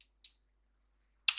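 A few sharp isolated keystrokes on a computer keyboard, spaced apart in a quiet room, ending with a slightly louder double click as Enter is pressed.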